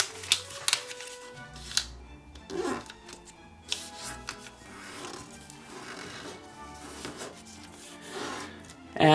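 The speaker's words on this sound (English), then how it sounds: "And rotate and fold this flap over the edges." Paper is creased and folded into an origami pumpkin jack-o-lantern, giving close, irregular rustles, crinkles and short rubbing swipes at varying loudness.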